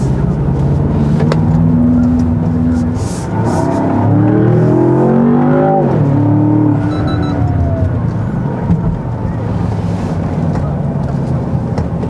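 Land Rover Defender OCTA under full acceleration, engine note rising in pitch through several sweeps and gear changes, loud and close from inside the cabin, with a driver talking over it.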